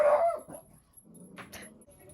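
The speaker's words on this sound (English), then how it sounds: "My dogs will not let me talk" Dogs at home barking in short yips and whimpering, a loud whiny burst first, then a quieter gap before more high yelps and whines trailing off near the end.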